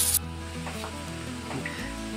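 Pork hock broth boils in a pressure cooker, giving a soft, steady bubbling hiss over a faint tonal hum for about two seconds, with no voices.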